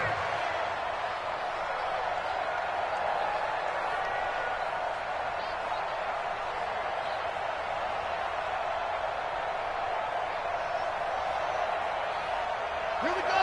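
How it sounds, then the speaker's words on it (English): Steady stadium crowd roar from an American football video game, a continuous broad wash of distant cheering that holds level throughout with no distinct peaks. "The crowd may be losing just a little bit of the edge after back-to-back punts"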